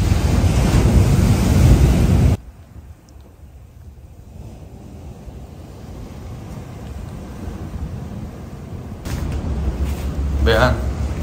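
Ocean waves wash water and sand up a sloping shore beside beachfront mansions, loud broadband surf at the start, dropping to a quieter background wash, then surging again near the end, with wind buffeting the microphone.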